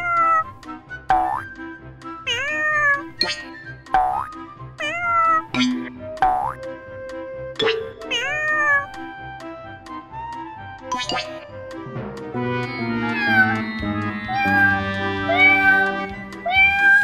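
Several high, bending meows from a cat in repeated calls, mixed with boingy cartoon-like tones and a playful musical background.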